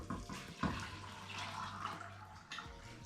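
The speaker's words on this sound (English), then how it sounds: "I have prepared some boiling water, which I'm also gonna add in." Boiling water poured into a pot of vegan chickpea soup, a steady splashing pour running through the whole stretch with a soft clunk near the start, close and moderately loud, no talking.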